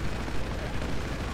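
Loud, continuous rumbling blast noise from an explosion in GTA 5 Online, a dense roar sustained across the moment with speech-like activity mixed in beneath.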